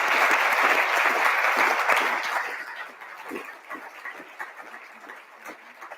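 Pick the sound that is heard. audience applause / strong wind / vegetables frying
audience applause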